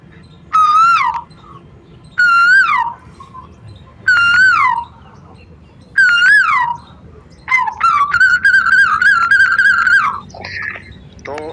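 A koel bird calls in a loud, close series of rising, whistled notes, four evenly spaced single calls followed by a faster run of repeated calls, over a faint background hiss.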